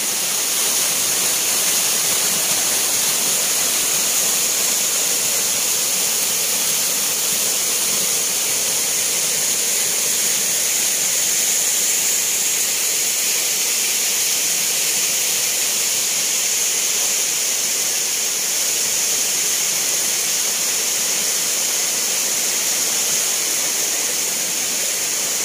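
Pikong Falls in Maasim, Sarangani Province, roars as a loud, steady rush of falling water, continuous and close, with a dense hiss and no voices.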